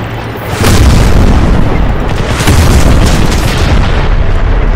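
Heavy combat in Crysis Remastered, a loud continuous rumble of booming explosions and gunfire that swells after a quiet first moment and stays dense throughout.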